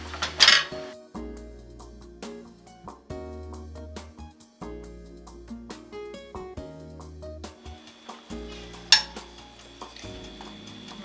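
Homemade blackberry jam boiling in a pot is stirred steadily, giving soft repeated scrapes and light clinks of utensil against pot. Occasional sharper knocks stand out over a low background.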